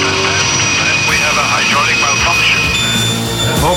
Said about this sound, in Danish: Brumbas er en Lynx-helikopter, der er verdens hurtigste.